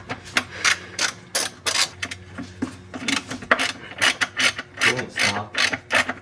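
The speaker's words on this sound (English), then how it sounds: "It is really nice to have a ratcheting wrench for this one." Ratcheting wrench turning a bolt while replacing engine and transmission mounts on a 2001 BMW 540i, heard up close as bursts of quick clicking strokes in an uneven rhythm, with no talking.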